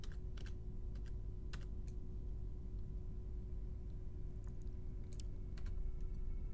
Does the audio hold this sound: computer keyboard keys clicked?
yes